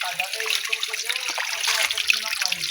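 Water gushes strongly from a jungle water source fed by two rivers, a steady splashing rush heard close up with no talk over it.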